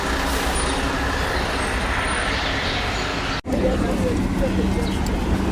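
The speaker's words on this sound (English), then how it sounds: "This is a narrow street with large trucks on it." Large trucks rumble along a narrow city street on the way to the subway, a steady close roar of heavy engines and traffic that drops out briefly for a moment before resuming.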